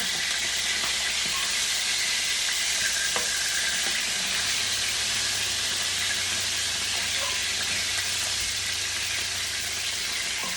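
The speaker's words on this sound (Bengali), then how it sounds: "আমি একটু হলুদ লবণ মরিচের গুঁড়ো দিয়ে মেখে রেখেছি এখন জাস্ট ফ্রাই করতেছি" Brinjal (eggplant) slices rubbed with turmeric, salt and chili powder fry in oil, giving a steady, dense sizzle throughout with faint occasional pops and no talking.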